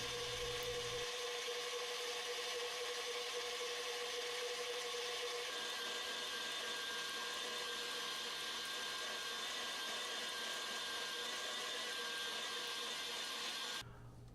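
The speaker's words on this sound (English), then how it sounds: "I'm going to beat them in a mixer for a bit, and then we'll gradually add a cup of sugar and keep mixing." Electric mixer beating egg yolks and sugar for a classic sponge cake, a loud continuous whirring drone that holds steady throughout, then drops slightly near the end.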